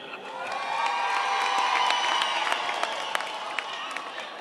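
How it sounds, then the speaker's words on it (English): A crowd welcomes home the South African Paralympic team with steady, fairly distant applause, scattered cheers and whoops. "Let's give him a big round of applause."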